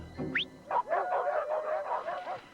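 Dogs yip, whine and give short bark-like calls in a car commercial for the Outback sport utility wagon, a string of medium-loud vocalizations with brief pauses and no talk over them.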